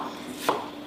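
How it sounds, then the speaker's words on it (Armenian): A single sharp knife chop on a board while cutting onion for frying, close and brief against quiet kitchen background. "Սոխարած ենք անում, վերեմ կտրատեմ։"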